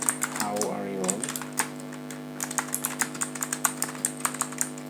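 Typing on a computer keyboard: quick, close key clicks that start sparse and then run in a steady, rapid patter. A faint hum sits underneath and a brief tone sweep sounds at the start, with no one talking.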